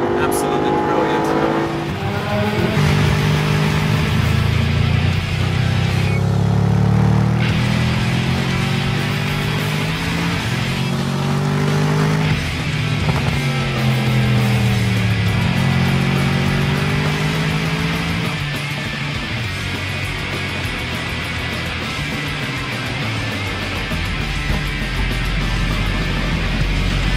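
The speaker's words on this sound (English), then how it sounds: "Look at that fantastic engine, listen to that" A Mercedes SLS AMG GT engine roars and revs while driving, its deep harmonic tone climbing and falling through gear changes, loud and close, settling to a steadier drone near the end.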